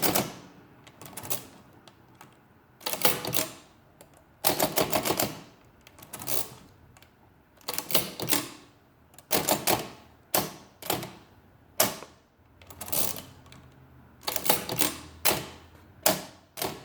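Facit-style mechanical calculator, early Facit or eastern European, under repair, running a calculation: rapid clattering bursts of keys and gears, repeated in close, loud rhythmic groups separated by short pauses.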